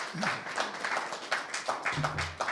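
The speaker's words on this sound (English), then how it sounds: "Let's give him a big round of applause, folks." Applause from the crowd at a board of education work session, moderate and steady with soft scattered claps throughout, a brief tonal murmur rising near the end.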